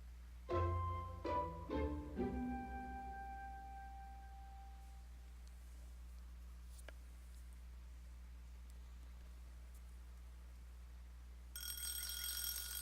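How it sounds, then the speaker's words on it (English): A video game alarm clock chimes in three quick bright rings, then fades into a quiet tone with a faint hum, and a brief bright electronic tone returns at the end. "I turned off the alarm."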